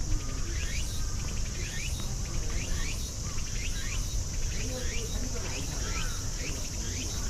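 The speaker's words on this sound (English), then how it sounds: "Can you hear those birds?" Repeated bird calls ring out over a dense, constant insect buzz, with short chirping phrases recurring every half second or so in an outdoor setting.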